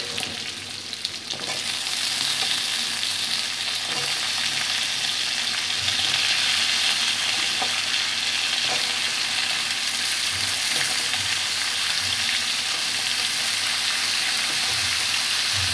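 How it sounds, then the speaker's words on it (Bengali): Dal fries in a pan with a steady, fairly soft sizzle that runs the whole time, with occasional faint scrapes of stirring. "ডালটা ভাজা হয়ে গেলে ফ্লেমটা লো করে দেবেন"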